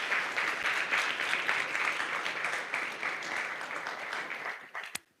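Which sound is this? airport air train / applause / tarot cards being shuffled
applause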